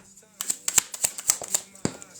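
Playing cards riffled and shuffled during a live intuitive tarot-style reading, coming as a quick series of crisp, fluttering bursts close to the mic, with a voice murmuring faintly beneath.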